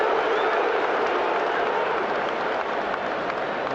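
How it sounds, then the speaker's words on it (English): A large football crowd at a Newcastle versus Liverpool match keeps up a loud, continuous roar of massed shouting, urging the goalkeeper to shoot while the opposing keeper is out of his goal. "they're actually shouting shoot, aren't they, to Pope, because Alisson was well out of his goal"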